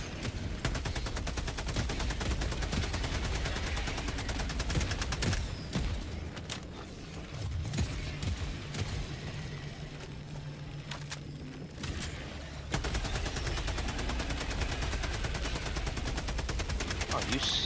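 Helldivers 2 sentry turret firing a long, steady stream of rapid shots, dense and fairly close, broken by a brief lull before the fire resumes, with no talking.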